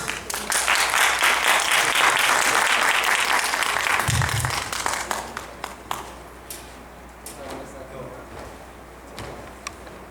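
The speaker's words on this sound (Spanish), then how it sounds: "Tengo el gusto de presentar al doctor Antonio de Jesús Lugo Dimas, para quien pido un aplauso." Audience applause greeting a doctor introduced to speak on sudden death in sport, dense clapping for about five seconds that thins into scattered claps and fades, with faint murmurs afterward.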